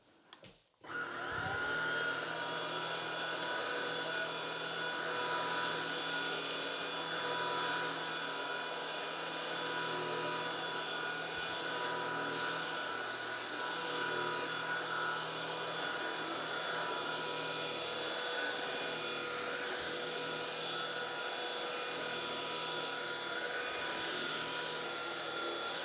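An Oraimo UltraCleaner S cordless vacuum whirs steadily at a constant high pitch for a long stretch after a brief start, close by and uninterrupted.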